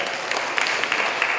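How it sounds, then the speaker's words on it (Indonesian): An audience at a training seminar breaks into a short burst of dense, steady clapping, loud and close. "Boleh tepuk tangan buat Kak Maret."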